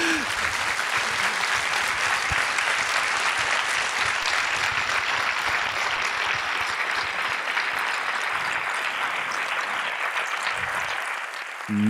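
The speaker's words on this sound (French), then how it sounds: "Ouais, vous pouvez l'applaudir" Audience at a public talk with Sophie Marceau breaking into sustained, dense applause that fills the room evenly for about twelve seconds before stopping.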